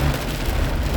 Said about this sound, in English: this is Texas, so yeah, it's raining now.